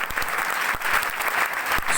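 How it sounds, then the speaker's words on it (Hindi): A seminar audience claps together, a close, loud burst of many hands with a few sharp individual claps standing out over the steady patter. "अपने लिए ताली बजाओ"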